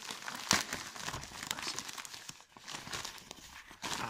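Cardboard packaging for a Xiaomi product is torn and crinkled open by hand without tools, with irregular close ripping and crumpling bursts throughout.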